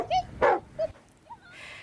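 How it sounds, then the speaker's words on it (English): A six-year-old golden retriever, holder of a loudest-bark record, gives a few short, sharp barks and yips spread across a couple of seconds, followed by a soft whimpering tone. "An Adelaide dog has broken the Guinness World Record for the loudest bark."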